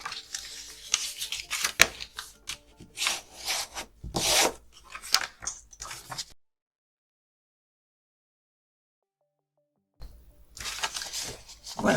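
Paper is scored along fold lines for a scrapbooking gift box, close dry scraping and rubbing strokes in quick bursts, then several seconds of silence before the scraping resumes.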